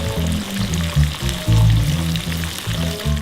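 Pork loin stuffed with cheese deep-frying in hot oil, a steady close sizzle with pulsing low bubbling surges and no talk.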